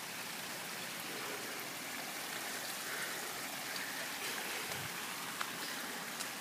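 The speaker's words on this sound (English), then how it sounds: "And that's the waterfall." A backyard waterfall pours out a steady, broad rushing hiss of flowing water that stays even throughout, fairly soft and unbroken, with only a couple of tiny clicks and no voices.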